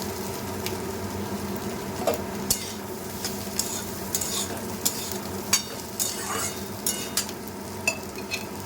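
Pumpkin fries in a pan with a steady sizzle while a utensil stirs it, scraping and clinking against the pan at irregular intervals.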